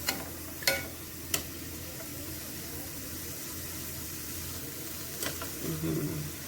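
Zucchini noodles sauté briefly in a pan with meatball sauce, a faint, steady sizzle broken by a few sharp utensil knocks and a little voice near the end.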